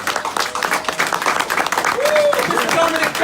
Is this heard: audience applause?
yes